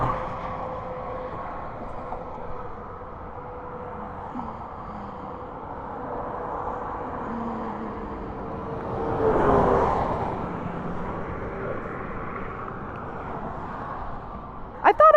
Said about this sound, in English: Let's wait for a break in traffic.